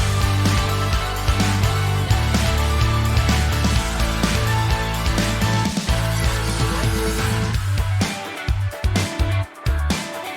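Chopped samples spliced together at the very end of a chorus in a track, forming a dense, loud, continuous electronic texture with stuttering cuts and brief drop-outs near the end.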